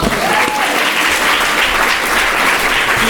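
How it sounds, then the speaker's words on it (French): An audience at a small venue applauds in a dense, continuous burst of clapping, loud and close, holding steady for several seconds with no voices over it. "On peut applaudir Pablo."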